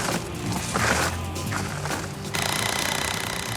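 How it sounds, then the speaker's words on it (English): A cordless impact drill drives an 8-inch lag screw into pre-drilled wood while anchoring a structure to a house, giving a loud, steady mechanical hammering that shifts to a sharper, faster rattle partway through, with no talking. "One thing I know about this drill, it's an impact cordless"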